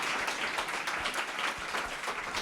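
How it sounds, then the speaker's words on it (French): An audience applauds at a book launch evening, producing a steady, dense wash of clapping that holds evenly from start to finish with no voices over it. "Vous pouvez l'applaudir."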